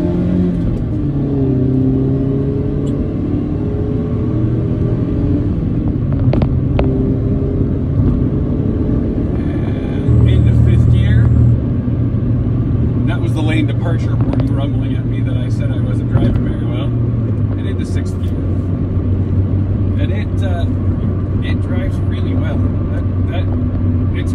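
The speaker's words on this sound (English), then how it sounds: "And now we're in second. And we'll let it rev up a little." A 2016 Mazda MX-5 Miata in second gear revs up, its steady engine drone rising in pitch as the car pulls along a bumpy concrete freeway, with road rumble throughout and a person talking over it.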